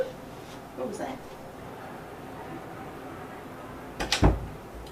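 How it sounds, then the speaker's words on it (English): A door inside a house rattles and shakes, with a faint bump early on and a sharper, louder clatter near the end over a quiet room hum. "The door is shaking"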